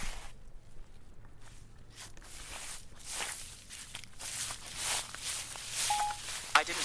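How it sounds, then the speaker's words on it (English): Footsteps crunch through dry autumn leaves, a quiet run of irregular rustling steps close by, with a faint click near the end. "Let's get some walking through leaves sound effects to add into this"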